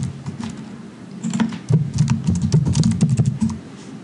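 Computer keyboard keys clack in quick irregular bursts as a username and password are typed, the close clicking growing busier midway over a low steady hum.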